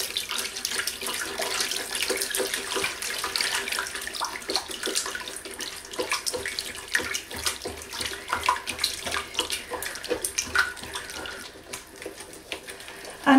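Water pours steadily into a pan of white sauce being cooked, a continuous splashing, running-water sound that stays close and fairly loud throughout, with small fluctuations as the stream hits the sauce.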